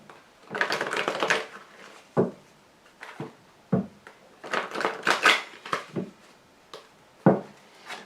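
Tarot cards handled and shuffled for a reading, giving bursts of papery riffling and soft slaps of cards laid down, close and fairly loud with short pauses between, no talking.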